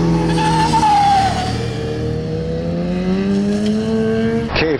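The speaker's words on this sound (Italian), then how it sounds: "Non so se sentite il rumore della supercorsa SP che chiede pietà." Supercorsa SP tyres on a Ducati Multistrada Pikes Peak on a twisty track, straining with a loud continuous engine roar that rises and falls in pitch over nearly five seconds, with tyre squeal mixed in and no talking.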